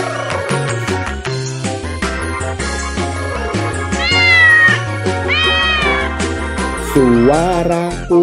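A cat meows several times, drawn-out rising and falling cries heard over the music of a children's song, fairly loud and close.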